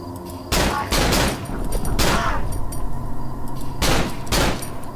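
Several sharp, loud bursts of gunfire in quick succession, rapid shots from a weapon in the game Cry of Fear, with echoing tails between the volleys.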